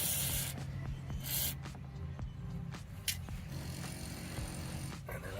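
Penetrating oil is sprayed on a rusted bolt on an '86 Mustang, short close hissing bursts from a spray can between quiet handling noises, fairly faint overall.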